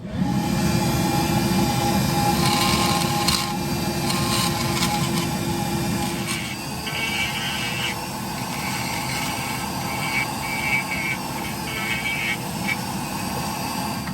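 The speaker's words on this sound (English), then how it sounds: "So we'll turn the fan on." An electric fan running in a wood-carving workshop while a salmon figure is being carved, a steady broadband whir with a low hum holding throughout, with some faint higher tool-like noises drifting over it.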